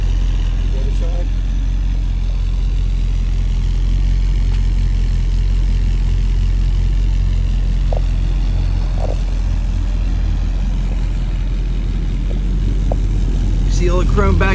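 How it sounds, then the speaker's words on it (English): A 1966 Ford Thunderbird engine idles steadily with a low, even rumble throughout, close by, with a few faint clicks and light noises over it. "Idle's really nice, runs and drives out great."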